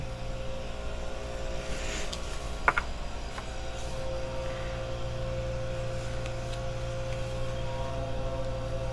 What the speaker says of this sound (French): il y a un avion qui passe, un bombardier.